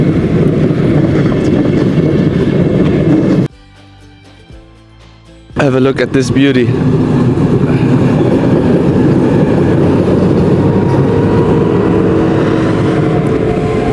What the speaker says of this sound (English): We should probably not miss this train. Beautiful regiojet.